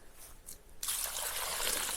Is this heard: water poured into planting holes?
yes